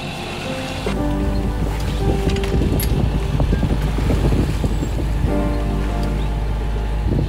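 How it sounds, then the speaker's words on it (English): A sailboat's engine runs hard at raised RPMs while towing a disabled boat on a rolling sea, giving a constant loud drone buried in heavy wind buffeting and water noise. "Drake just raised RPMs. No, the engine's working pretty hard."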